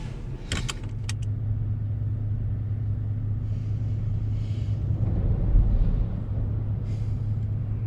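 Truck cabin on the road with a steady low engine drone and road rumble throughout, a few light metallic jingles near the start, no talk.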